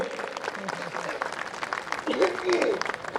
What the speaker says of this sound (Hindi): तालियां बजाओ भाई सब बच्चों के लिए।